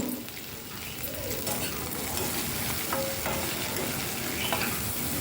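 Salted okra stir-fries in a pan for a Tamil okra poriyal, a loud, close, constant sizzle layered with stirring clatter and scraping, with no talk.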